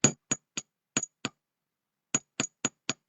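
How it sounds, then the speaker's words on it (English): Metal hammer strikes on a piece for a torch-fired enamel bracelet: a quick burst of five sharp taps, a pause, then four more, close and distinct with silence between. "Okay, and so I'm going to hammer this."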